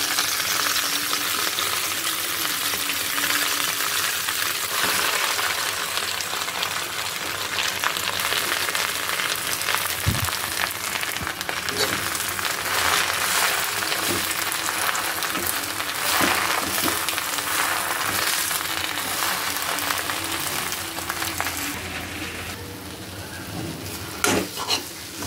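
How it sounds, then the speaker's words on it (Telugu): Gongura sorrel leaves fry in a pan, giving a continuous close hiss of sizzling with occasional light scrapes and taps of stirring throughout. "ఇప్పుడు అదే బాండీలో గోంగూర వేసుకొని ఫ్రై చేసుకుందాం."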